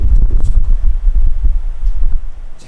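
A heartbeat sound effect thumps loudly in a low, throbbing rhythm, with repeated deep pulses running steadily under a faint hum.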